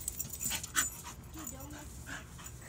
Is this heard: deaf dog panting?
yes